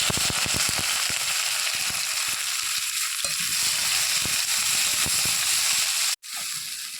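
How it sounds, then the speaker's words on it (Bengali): Chopped onion and whole cumin seeds sizzling loudly in hot oil, a dense continuous hiss with scattered sharp crackles and pops close up, briefly cutting out near the end before resuming. "পেঁয়াজগুলোকে ভালোভাবে ভেজে নেব"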